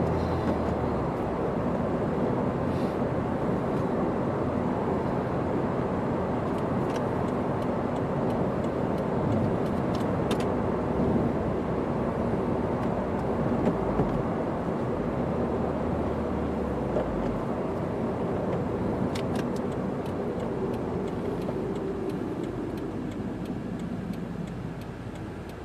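A 2015 Subaru WRX with a six-speed manual drives on under hard throttle, its warmed-up engine giving a steady, loud, broadband roar that holds for the whole stretch and eases slightly at the end.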